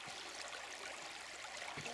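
Fast-flowing river water in Algonquin Park, a steady broadband rush of swift current, faint and continuous with no voices over it.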